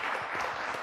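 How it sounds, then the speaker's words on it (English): A short burst of steady audience applause at a book talk and signing, dense and even clapping from a seated crowd throughout, with no speech over it. "a round of applause"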